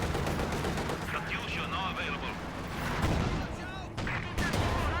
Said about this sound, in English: NiteNite still with the MG42